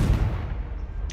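The Confringo fire spell blasts in Hogwarts Legacy with a low, muffled thump that hangs as a steady rumbling body for about a second, without any sharp attack.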